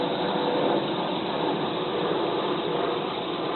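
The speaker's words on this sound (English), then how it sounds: "There's a plane going by." An airplane passes over the San Francisco Bay with a steady, broad engine rumble that holds evenly throughout, with no voices.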